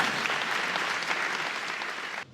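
Audience applause for Nina at the Grand Prix du Rayonnement Français 2025 awards ceremony, a dense, steady wash of many hands clapping that holds throughout, then cuts off abruptly at the end.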